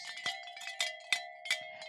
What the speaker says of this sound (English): Ring that bell. I rang the bells.